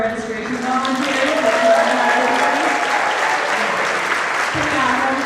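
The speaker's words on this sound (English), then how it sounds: "Can we give a round of applause for our registration volunteers?" A convention audience applauds registration volunteers with steady, loud clapping, and voices and cheers are mixed into the crowd noise throughout.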